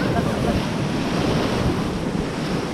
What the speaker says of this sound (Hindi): पानी थप्पड़ मार रहा।